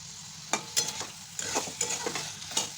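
Chicken with capsicum and onion sizzles in a pan while a utensil stirs it, giving repeated scraping strokes over a steady close frying hiss.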